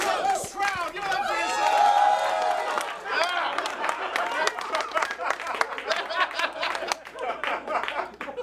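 An audience at a comedy show cheers, whoops and claps, a loud burst of crowd noise that settles into scattered applause and laughter, with voices shouting over it.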